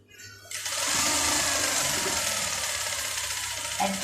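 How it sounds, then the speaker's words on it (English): A Juki high-speed industrial sewing machine starts after a brief pause and then runs at a fast, even buzz, loud and close, with a faint click near the end. "Now I sew and I tag like this."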